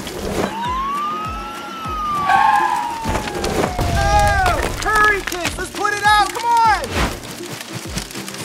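Pretend play with a toy fire truck during a kids' firefighter rescue game: a rising-and-falling electronic siren wail sweeps up and down, then chirpy warbling siren bursts follow, fairly loud, with children's voices and footsteps mixed in.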